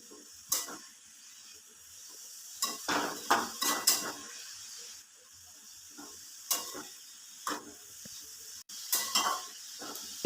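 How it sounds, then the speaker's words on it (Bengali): Spiced cabbage filling with green chilli, turmeric, chilli powder, cumin and ginger paste is stirred in a pan, with scattered metallic scrapes and clanks of a spatula in bursts over a faint low sizzle, fairly quiet overall. "এইভাবে নেড়ে চেড়ে আমি বাঁধাকপিটা দেখুন তৈরি করে নিচ্ছি।"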